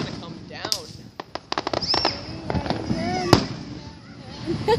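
July 4th fireworks burst in a rapid run of sharp, loud bangs and crackles against the sky, with people chatting in the background between explosions.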